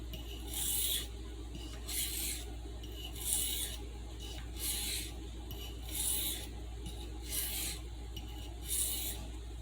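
A Stockman sheepsfoot knife blade is drawn across a sharpening surface to remove a stubborn burr, giving about seven evenly spaced raspy strokes close up over a low steady hum.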